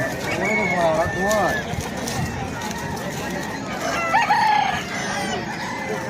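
Roosters crow and hens cluck amid a busy crowd at a rooster fighting fair, with people talking throughout and the calls rising over the chatter.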